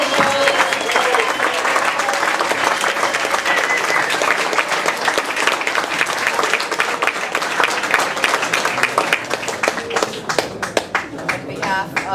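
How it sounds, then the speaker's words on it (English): Audience at the Santa Barbara mayoral youth debate breaks into loud, sustained applause, dense clapping filling the whole stretch with a crowd murmur beneath. "So let's please give the amazing applause."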